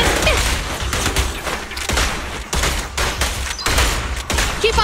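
Sustained automatic gunfire in the action game Zenless Zone Zero, loud and close, with dense rapid bursts broken by brief pauses and mechanical clatter mixed in.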